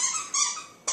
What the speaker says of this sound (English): Really? A squeaky toy?